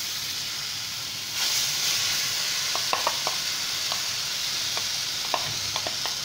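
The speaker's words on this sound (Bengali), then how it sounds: "কড়াইতে সাদা তেল দিয়েছি, তেলটা গরম হয়ে গেছে। এবার আমি এর মধ্যে মিশ্রণটা ঢেলে দেব।" Jackfruit dhoka batter is poured into hot white oil in a wok; a quiet hiss swells into a steady sizzle, dotted with small sharp crackles and pops, no voices.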